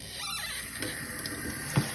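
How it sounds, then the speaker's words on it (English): Tap water runs at a low trickle into a sink to rinse a whole raw chicken, a soft steady stream with small splashes, quiet and close, no talking. "So now we're just gonna turn a little bit of water on."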